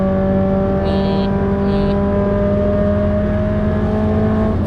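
A Nissan S15 runs flat out on the Nürburgring with a loud, steady engine roar heard from inside the car. The tone holds a sustained high pitch at full throttle, and a faint short tone chirps twice early on.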